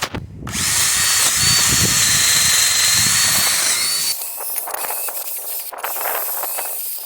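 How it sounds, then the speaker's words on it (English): A power drill with a small wire wheel brush whirs loudly with a harsh, scratchy abrasion as it grinds rust off Mercedes GLK rear brake calipers and rotors, then eases to a lighter rasping. "I'm going to go get the smaller drill wire wheel"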